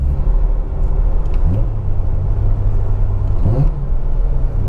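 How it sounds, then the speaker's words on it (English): A car being driven on a test run after a new brake installation, heard as a steady low engine and road rumble from inside the cabin, with a couple of brief rising whines, and no talking. "And then I drive the car"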